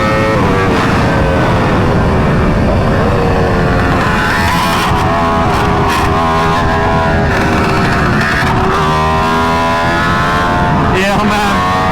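Aprilia RSV4 motorcycle pulling hard through second gear, a loud rising engine note with wind rush throughout, while a rider's excited voice talks over it.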